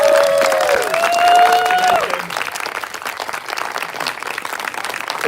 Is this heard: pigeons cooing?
no